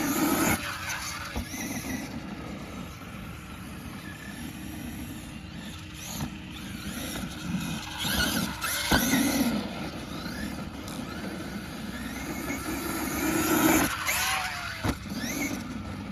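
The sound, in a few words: Traxxas E-Revo 2.0 RC car driving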